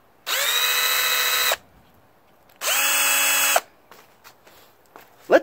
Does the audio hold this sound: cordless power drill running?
yes